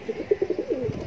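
Madrasi pigeons coo softly and repeatedly, a string of low throaty pulses close by over a faint background hum.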